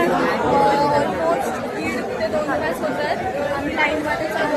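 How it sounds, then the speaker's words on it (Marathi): A dense crowd fills a long, crowded queue with a steady wash of overlapping chatter, many voices close and far blending together without pause. "खूप गर्दी आहे यार"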